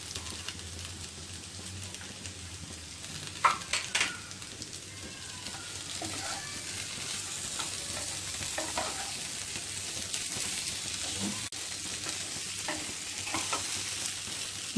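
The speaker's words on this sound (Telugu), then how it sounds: "మగ్గించుకున్న తర్వాత కొత్తిమీరను వేసుకొని కలుపుకుందాం." Jeera aloo, potatoes with cumin and fresh coriander, stirred in a pan with a spatula: steady soft sizzling throughout, with a few sharper scraping knocks near the start and scattered clinks, close and fairly quiet, no talking.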